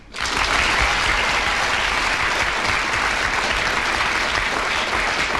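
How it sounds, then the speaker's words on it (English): A studio audience at a radio panel game applauds a winner, a loud, dense burst of clapping that starts abruptly and holds steady throughout. "I'm sure you want to applaud her for that"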